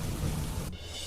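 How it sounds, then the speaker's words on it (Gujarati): Heavy downpour under dark clouds over a rural village area, a dense, loud wash of rain with a deep low rumble like thunder, ending abruptly after about a second. "કાળા ડિબાંગ વાદળો સાથે ખાબક્યો ધોધમાર વરસાદ"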